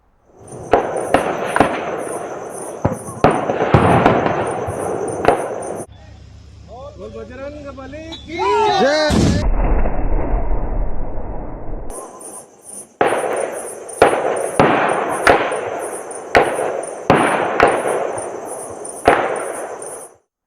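Exchange of gunfire between Maoists and security forces in Bijapur district, Chhattisgarh, in news footage: sharp cracking shots in bursts and rapid runs, loud and close, with a stretch of electronic tones and rumble in the middle and talk in between.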